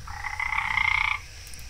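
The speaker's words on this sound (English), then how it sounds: "Friggin' frogs!" Frogs croak in the video game Beasts of Bermuda: a single loud, close, buzzing croak with a rapid rattling pulse lasting about a second, then quiet ambient background, no voices.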